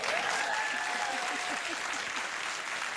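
A studio audience at a late-night talk show, Late Night with Conan O'Brien, breaks into sustained, dense applause that stays steady and full throughout.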